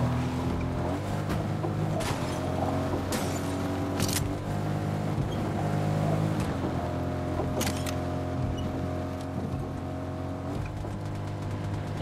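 A G-Wagon car driven in Fortnite gives a steady engine drone with shifting pitch as it revs and cruises. Sharp clacks and bursts cut in now and then, and there is no talking.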